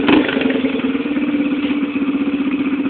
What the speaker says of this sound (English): It's a TTR 125. That's exhaust system. We took the spark arrestor out.